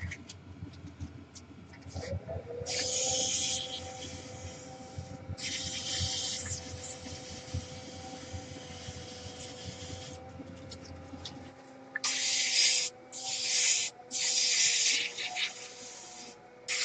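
A wood-turned piece spins on a lathe while it is sanded, giving a low, steady motor hum under soft scratchy rubbing and several short bursts of hiss.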